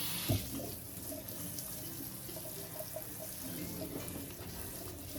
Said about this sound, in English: It's white hominy. I'm going to give it a quick rinse.